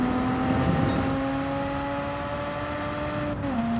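A Mazda RX-7 in Gran Turismo 7 at the Nürburgring GP circuit holds a high, steady engine tone near the top of its revs, then drops briefly as it shifts near the end.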